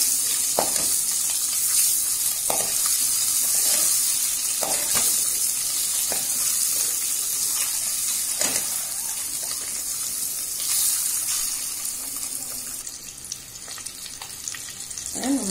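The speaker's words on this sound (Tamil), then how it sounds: "கீறி இதுல இந்த எண்ணெயில போட்டு ஃப்ரை பண்ணுவோம்" Slit boiled eggs fry in hot oil for an egg gravy, giving a steady broadband sizzle with occasional sharper pops and spatters, close and fairly loud, with no talking.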